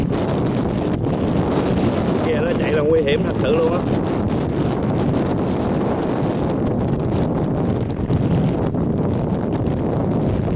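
Strong wind buffets the microphone in a constant roar, with someone talking over it throughout, outdoors at a harbour with many fishing boats.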